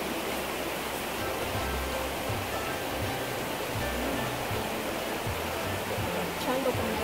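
A river flows in a constant broad rush of water, loud and unbroken, with faint low voices occasionally audible beneath it.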